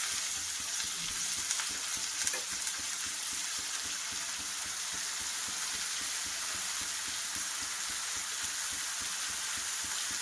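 Amaranth leaves and onions frying in a pan, a steady dense sizzle with faint stirring scrapes, close and continuous throughout with no voices.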